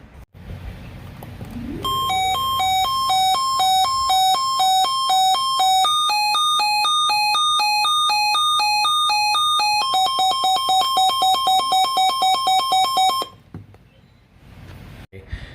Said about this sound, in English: I'm actually gonna show you a separate video clip of the siren test right now